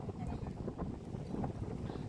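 Steady wind gusting around a seaside church flagpole on the coast at Manapad, a continuous buffeting rush with wind noise on the microphone, and a voice talking faintly under it.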